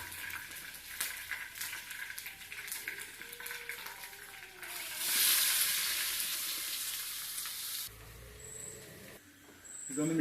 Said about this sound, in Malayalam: എണ്ണ ചൂടായിട്ടുണ്ട്. നമ്മൾ കറിവേപ്പില ഇപ്പോൾ ഒന്നിച്ചിട്ട് തന്നെ അതിൽ ചേർത്താൽ മതി.